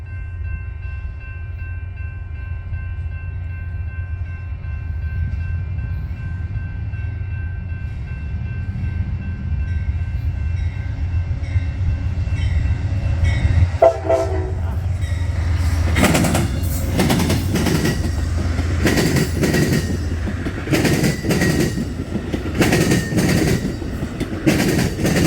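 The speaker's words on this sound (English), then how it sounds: "You know, I thought I heard an Amtrak horn, and I think that's what this is." Amtrak passenger train on a Union Pacific line, first a distant low rumble with faint horn tones, then the train arrives and passes close by with loud clattering wheels and rhythmic clickety-clack over the rail joints.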